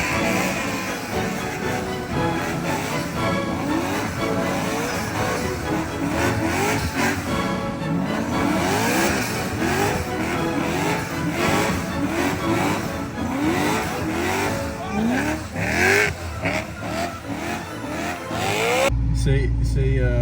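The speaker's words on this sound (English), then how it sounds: "this video is just an excuse for me to do donuts" A car spinning donuts with its engine revving hard and tires squealing, a loud continuous roar with rising and falling pitch that ends abruptly near the close.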